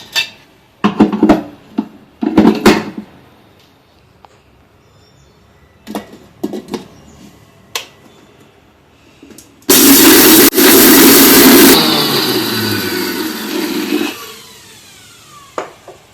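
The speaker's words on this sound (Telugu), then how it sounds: "మిక్సీ ఆడుకుందాం" A kitchen mixer grinder whirs loudly for a couple of seconds on coriander seeds, cumin and garlic, then winds down, after scattered clatter from loading the jar.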